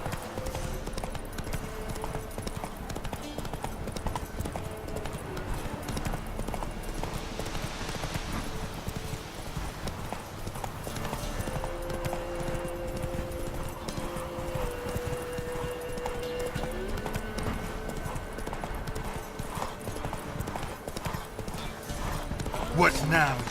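Hooves of Roach, the horse in The Witcher 3, galloping in a steady rapid clip-clop rhythm that runs throughout, with game music and effects underneath and a voice speaking over it.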